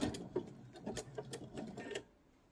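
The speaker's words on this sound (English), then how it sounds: "I'm going to do my backward stitch again just to go back over there and make sure that I got my stitching in there nice and solid" A sewing machine backstitches over coiled rope for a Bali rope bowl, giving a close run of quick mechanical stitching bursts with short pauses that stops near the end.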